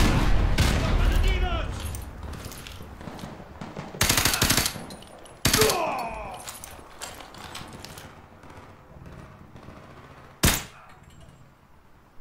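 Gunfire in the Call of Duty Modern Warfare 2 Campaign Remastered: rapid automatic bursts at the start, then several sharp loud single shots spaced apart, with someone speaking in between.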